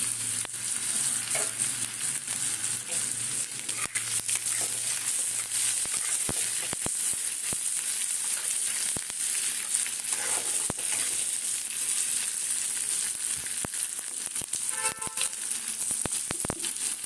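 Whole cumin and panch phoron hitting hot oil over frying onions for a vegetable chorchori, a loud continuous sizzle with scattered sharp pops and crackles close by.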